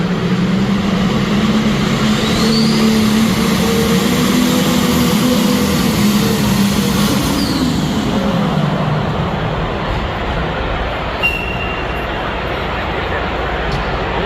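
A Case International 210 tractor roars loudly and steadily as it pulls a sled at a tractor pull, its engine pitch shifting midway before easing off, with crowd noise faintly beneath.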